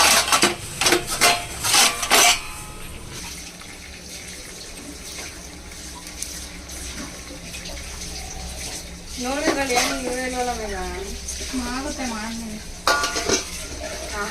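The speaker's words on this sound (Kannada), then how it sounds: "ದೊಡ್ಡ ಮಗಳು ಪಾತ್ರೆ ತೊಳಿತಾ ಇದ್ದಾರೆ" Dishes are washed in a home kitchen: running tap water, clinking pots and plates and scraping, loud in short bursts at the start and near the end, with quieter water sounds in between while people talk.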